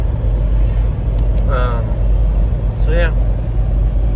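A car on a long road trip to Colorado drones with a steady, loud road and engine rumble as someone speaks briefly over it.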